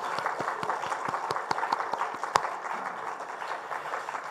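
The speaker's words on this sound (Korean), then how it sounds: "우리 격려의 박수 한번 하겠습니다" Congregation applauding in encouragement during a Sunday church worship service, a steady wash of many hands clapping with a few sharper claps standing out, moderately distant and sustained for several seconds.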